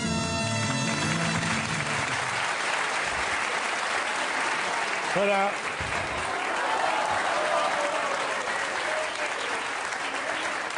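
Studio audience on a French TV talk show claps steadily in a loud, sustained wave of applause after a brief musical tail, with a short spoken word partway through.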